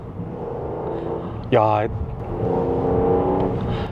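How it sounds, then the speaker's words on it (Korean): A Rolls-Royce Ghost Black Badge's V12 engine gives off a continuous, sharp-edged drone that swells slightly toward the end, while someone speaks briefly over it. "지금 앞에 이 V12 엔진에서 카랑카랑한 엔진음이 들리고요"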